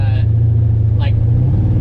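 A 1969 Ford Mustang Fastback's engine gives a loud, steady low rumble from inside the car while driving, with brief voice fragments over the drone.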